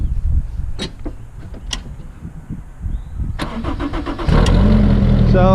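Engine of a Vermeer LG46 log grapple machine cranking and catching, preceded by a few clicks and knocks, then settling into a steady loud running drone close by.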